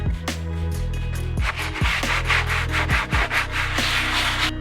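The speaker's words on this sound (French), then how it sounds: "je vais faire avec cette brosse là parce que l'éponge était beaucoup trop mou" A stiff brush scrubs back and forth over a wooden surface during a van renovation, giving repeated rasping strokes in a steady rhythm, close and fairly loud with no talking.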